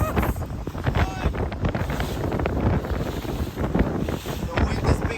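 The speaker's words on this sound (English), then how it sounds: "the wind is picking up" Strong wind gusts batter a boat on the water during Tropical Storm Debby, a loud steady roar with buffeting bursts across the microphone and faint sloshing waves beneath.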